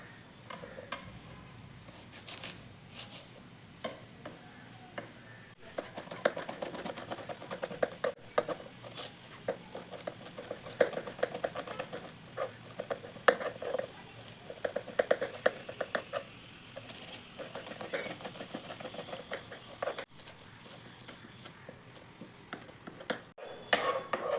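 A knife finely chops six green chillies for aloo bonda, a long run of quiet, irregular clicks and taps on a board with faint kitchen clatter and no talk.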